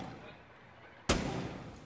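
A single gunshot in the video game Rainbow Six Siege, a sudden loud crack after near-quiet, followed by a decaying reverberant tail.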